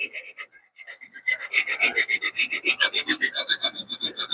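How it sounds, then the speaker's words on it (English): Rhythmic rasping strokes of sandpaper or a sanding block smoothing the rough-cut edge of a boat propeller, steady back-and-forth scrubbing close up after a brief quiet start. "you come back, even with some sandpaper or maybe a sanding block"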